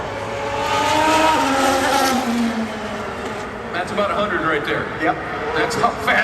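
A Formula 1 race car accelerates hard at the Miami Grand Prix, a loud rising engine whine sweeping upward over several seconds as it pulls away, with people talking over it.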